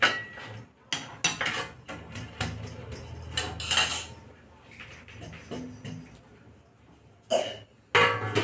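A person with an allergy cough coughs in short bursts, several harsh close coughs scattered among kitchen clatter of dishes and utensils, with quiet gaps between.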